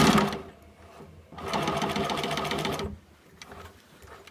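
A sewing machine stitches a bias welt connection in two bursts of steady, close, rapid whirring, the second longer, with brief pauses and quiet handling between.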